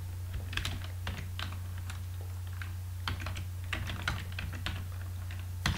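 Programming code being typed on a computer keyboard, with rapid, uneven key clicks in bursts over a steady low electrical hum, close up and with no voice.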